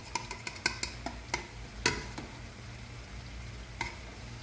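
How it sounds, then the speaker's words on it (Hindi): Cooked mutton pulao is lightly mixed in the pot, giving a run of soft scraping and tapping stirs, quick at first and then sparser, with a faint sizzle under them. "इसे हल्का सा मिक्स कर लें"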